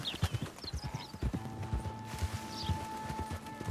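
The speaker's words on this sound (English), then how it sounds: "Oh, look at the horses." Horse hooves clip-clop in a steady, uneven rhythm inside the video game Red Dead Redemption 2, moderately close, with a faint whinny and a soft ambient hum beneath.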